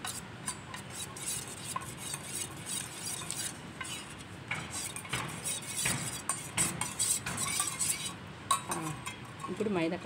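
Kumkum powder and maida flour stirred together for homemade nail polish: a spoon scrapes and swirls steadily against a small container with occasional sharp clinks, close and continuous throughout, with no voices.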